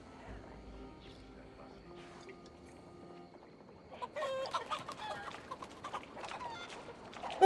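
Chickens cluck in Assassin's Creed Valhalla, a run of busy clucking and squawks rising over background game ambience and music in the second half, with talking in the clip.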